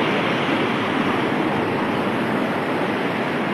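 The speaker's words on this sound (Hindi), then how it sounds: "पानी का लहर भी देख सकते खोलता हुआ भी" Swollen Ganga in flood at Bhagalpur, Bihar, its waves rushing and churning in a steady, loud, close broadband roar with no break and no voices.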